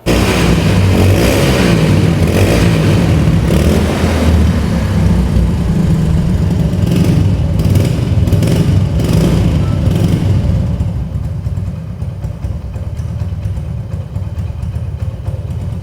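A Hero Honda Splendor motorcycle idles just after being started, its engine giving a loud, close, steady low rumble that eases slightly toward the end.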